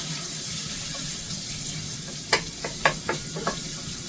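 Diced half onion sizzling with bacon in a frying pan for Southern-style turnip greens, a steady close crackle with a few sharp scrapes and clinks of stirring in the last two seconds.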